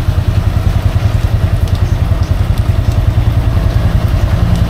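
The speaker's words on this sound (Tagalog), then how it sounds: "Pero sa akin kasi ini-start ko yung motor para at least hindi na tayo mahirapan mag-ikot-ikot ng gulong" A fuel-injected Honda Wave RSX 110 motorcycle engine runs steadily in first gear with the wheel spinning, a loud, close, even putter with a fast regular pulse and faint mechanical clatter, no voices.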